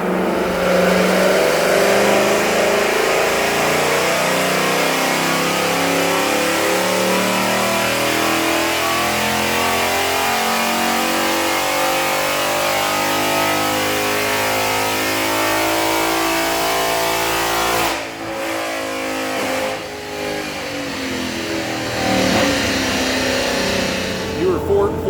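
A 2019 Mustang GT PP1, naturally aspirated, roars through a sustained dyno pull, its engine note rising steadily and loud for about eighteen seconds before backing off, with brief voices as the revs drop.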